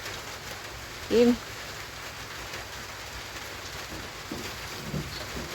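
Rain falls steadily during a storm in Laos, a continuous soft patter and hiss, with a brief spoken word near the start.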